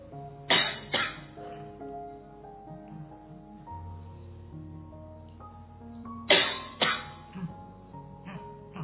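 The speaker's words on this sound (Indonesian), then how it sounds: "Batuk." Two clusters of harsh, close coughs, each a quick double burst, break through a quiet stretch with a low steady hum and faint tones.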